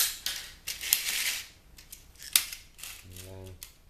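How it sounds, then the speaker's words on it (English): Cutters snipping through plastic while scrapping a child's toy keyboard, giving a few sharp close clicks and crunches among handling noise, followed by a brief low hum near the end. "Got a piece of plastic here. Just snip it."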